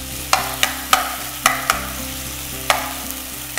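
A utensil stirs chicken pieces through a coating of mustard paste, honey and cheese in a pan, giving sharp scraping clicks at an irregular pace over a low sizzle.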